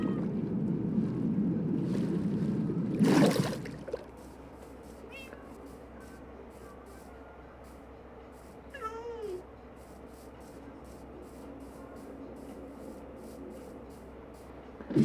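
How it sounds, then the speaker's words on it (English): A cat in Minecraft Hardcore gives a few short, thin meows, one clearer near the middle, over quiet in-game ambience after a brief louder rushing burst at the start. "The highest priority I had at the time was bringing my cat back to my treehouse."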